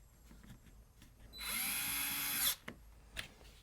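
A power drill drives small screws into a battery cover, a single steady high whine lasting about a second, close and clear, followed by a few faint clicks and knocks.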